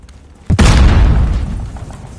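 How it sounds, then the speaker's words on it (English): A loud, close grenade blast in a deathmatch video game, a sudden deep boom that rumbles and slowly fades over a couple of seconds, with no talking. "Grenade out!"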